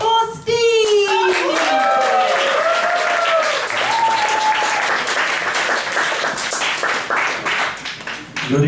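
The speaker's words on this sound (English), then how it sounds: "A huge warm round of applause for Steve." A comedy club audience applauds a comedian taking the stage, dense loud clapping with whoops and cheers filling the room throughout.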